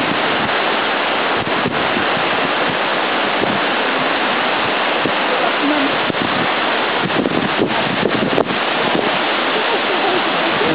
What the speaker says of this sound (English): Totally a river.